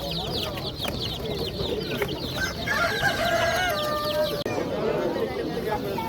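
Chickens and chicks at a poultry market crowd the air with clucking, cheeping and a rooster's crow, under talk from people nearby.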